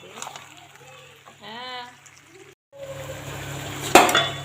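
Chicken kosha stirred in a metal pan: scattered clinks and scrapes of a spoon against the pan, close by, under a voice talking.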